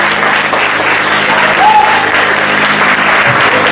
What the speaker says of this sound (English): Clap your hands and receive a good, a big welcome here.